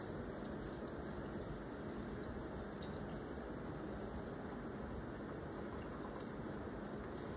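Hot beef broth is poured into a canning jar holding meatballs, making a steady, faint, continuous liquid rush with no pauses.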